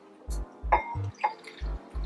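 Hot water poured into a bowl for cleaning dirty, dry leather, heard as a few short splashy drips and trickles over a low steady hum.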